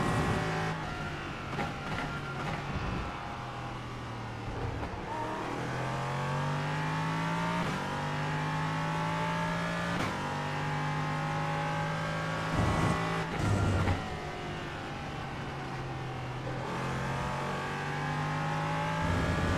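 An LMP3 prototype race car at Interlagos in a racing video game holds a loud, continuous engine drone throughout. The pitch climbs and falls repeatedly as the car accelerates, shifts and brakes through corners, with no voices over it.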